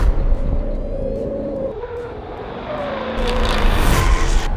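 A Jaguar F-Type sports car on a track drops off as it brakes, then its engine rises loud and close as it accelerates hard out of the corner, with tonal engine whine throughout.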